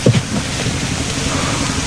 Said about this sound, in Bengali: ওই যে বৃষ্টি নামে গেছে,